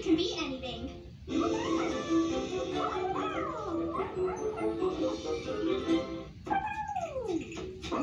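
Several small puppies yip and whimper in high, rising cries, with short gaps between bursts over a low background rumble.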